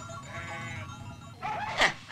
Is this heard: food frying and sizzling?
no